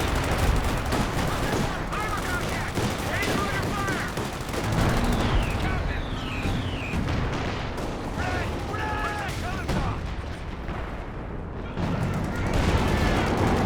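Howitzer artillery barrage in Company of Heroes 2 during a 2v2 match: a dense, continuous rumble of blasts and gunfire booming throughout, with a commentator talking over the battle.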